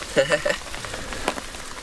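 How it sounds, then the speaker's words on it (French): Heavy rain patters steadily on surfaces during a stormy night of wild carp fishing in Sologne, a dense close hiss with a few sharper drop hits, while someone speaks briefly over it. "là il pleut sévère"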